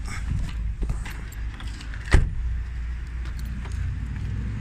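A Hyundai Santa Fe car key with remote jangles close by in a few light metallic shakes, with one sharper clink in the middle, over a low steady background rumble.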